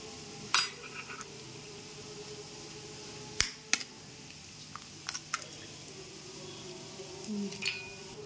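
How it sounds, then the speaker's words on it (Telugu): A few sharp clinks and taps against a bowl, spread out with quiet gaps between them, as boiled eggs are broken up. "ఈ విధంగా ఎగ్స్ అన్నీ బ్రేక్ చేసుకోవాలి."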